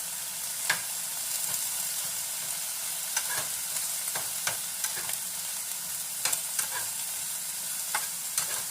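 Seasoned meat with garlic and onion powder is stirred in a hot pan, steady frying hiss punctuated by repeated scraping clicks of a utensil, with no voices.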